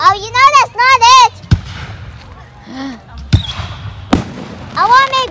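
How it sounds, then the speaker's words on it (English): Several sharp July 4th firework bangs go off, separated by pauses, between bursts of high, squealing whistles from launching rockets. "I want to make more fireworks for everyone just from saying that."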